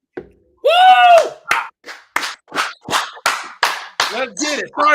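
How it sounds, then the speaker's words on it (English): Loud claps struck right into a microphone during a live Indianapolis Colts draft celebration: a rapid run of about ten sharp, close, evenly spaced claps, mixed with excited shouting. "I was clapping loud into that mic."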